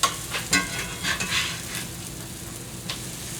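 Vegetable pieces sizzle steadily in a hot pan as they are flipped, with several sharp clicks and scrapes of the turning at the start over a continuous frying hiss.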